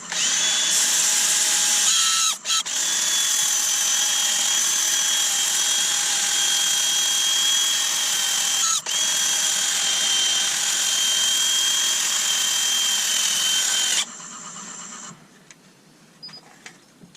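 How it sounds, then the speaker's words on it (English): A wood lathe spins an elm bowl at 500 RPM for sanding, making a steady, loud motorised whine with a couple of brief dips before it cuts off near the end and fades to faint rustling. "I've put the speed back down to 500 RPM for sanding."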